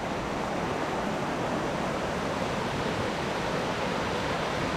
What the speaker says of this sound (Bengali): এখান দিয়ে একটা নদীর মতো ফ্লো করছে, এটা ঝর্ণাটারই জল, এটারই শব্দ পাচ্ছিলাম আমরা